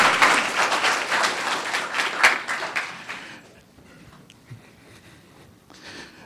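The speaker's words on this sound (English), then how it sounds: "We'll do one more round of applause for Ms." A town council meeting audience applauds Ms. Goldberg, steady clapping for about three seconds before it tapers off into quiet room noise with a few stray claps.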